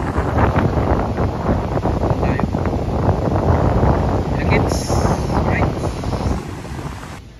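Strong gusting wind buffets the microphone at Boracay beach, a loud, continuous roar with surf mixed in underneath and faint voices in the background.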